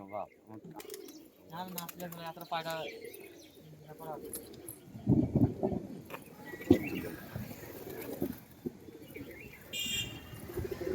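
Several pigeons coo and chirp nearby at a Kolkata home loft holding performing and betting pigeons, their soft calls rising and falling under intermittent conversation.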